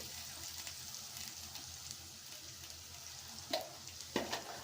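Onions frying in oil with turmeric and ginger-garlic paste in a pan, a steady low sizzle with a couple of louder stirring scrapes near the end, a voice faintly present.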